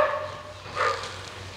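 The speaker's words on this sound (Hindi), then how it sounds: "कुत्ता भौंक रहा है" A dog barks indoors, a couple of short faint yips and one louder bark over a low steady hum, with no talk.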